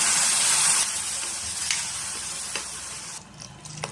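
Steady sizzling hiss of spices sautéing in a hot pan for bitter gourd tamarind curry, fairly loud at first and gradually softening, with a few light scraping stirs.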